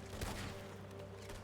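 Gunfire in the Red Dead Redemption 2 roleplay game, during a desert shootout: a quick, faint burst of shots early on, then a distant rumbling wash, with no talking.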